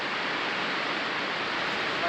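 Sea waves surging over a sea wall on Holy Island, Lindisfarne, a steady loud rushing wash of water like a waterfall, filling the whole clip.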